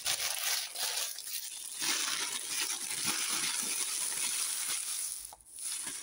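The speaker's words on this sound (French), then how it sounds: "Je vais tout simplement le froisser pour le mettre au fond." Transparent plastic offcuts crumpled by hand, a dense close crinkling and crackling that runs steadily for several seconds with a brief pause near the end.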